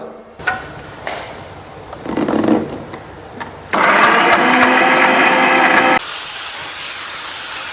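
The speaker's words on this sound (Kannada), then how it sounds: "ತೆಂಗಿನಕಾಯಿ ಎಲ್ಲ ತೆಗೆದೀಗ ಮಿಕ್ಸಿಗೆ ಹಾಕಿದ್ದೇನೆ ಇದಕ್ಕಿನ್ನೂ ಬೇಕಾದಷ್ಟು ಉಪ್ಪು ಆಯಿತು ಇನ್ನು ಸ್ವಲ್ಪ ನೀರು ಹಾಕಿ ಗ್ರೈಂಡ್ ಮಾಡುವ" Mixer grinder running at close range, grinding coconut chutney with salt and water, its loud steady whirring motor roar starting after a few bumps and handling noises and holding at high speed to the end.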